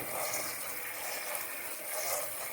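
Cool tap water gushes steadily over strained macaroni in a colander, a continuous hissing splash that is moderately faint and has no talk over it.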